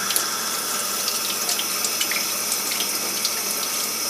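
Kitchen tap running steadily into a sink as a dish is rinsed after making sweet potato pie, a continuous close splashing hiss with no break.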